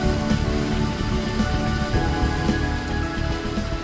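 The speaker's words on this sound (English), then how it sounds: "it's still raining." Rain falling steadily onto a flooded garden pond, a dense close patter and hiss of drops on water, loud and continuous without voices.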